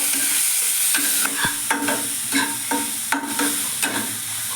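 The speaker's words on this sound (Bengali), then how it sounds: "পেঁয়াজটা একটু ভাজা ভাজা করবো" Constant loud sizzling of onions frying, with repeated stirring scrapes and occasional clinks of a spatula against the pan.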